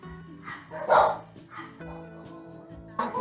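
Dogs bark in a few sharp, loud bursts with a whimpering yip among them, heard over a steady tonal background with a voice faintly present.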